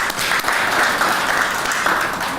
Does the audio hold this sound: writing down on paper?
no